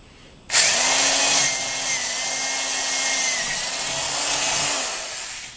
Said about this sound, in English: I'll just use this hole as the guide for drilling down through